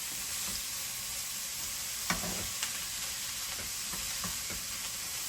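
Cabbage frying in oil with ginger, green chili and cumin, a quiet steady sizzle with a few soft stirring clinks and scrapes, no voices.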